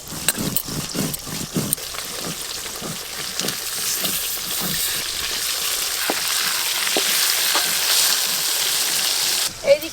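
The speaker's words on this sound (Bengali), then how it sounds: "তেল খুব ভালো করে এদিকে গরম হয়ে গেছে। এবার মাছগুলো ভেজে নেব।" Fish pieces, four to a pan and cut from a large fish, frying in hot oil make a steady hiss, with rhythmic clatters and stirring knocks early on, under faint background voices.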